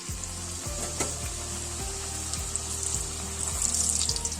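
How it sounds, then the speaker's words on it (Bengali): Luchi puffs in hot oil one at a time, giving off a steady, moderately loud hiss of sizzling. Soft, low music plays throughout. "চলো এবার একটা একটা করে ভাজি, কেমন ফুলকো ফুলকো লুচি হয় কিনা।"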